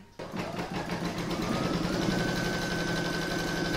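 A sewing machine runs steadily while quilting around the edge of a frame on a small mug rug, giving a continuous, fast, even mechanical whir and needle chatter from close up.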